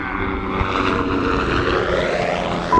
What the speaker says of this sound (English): Helicopter, helicopter again.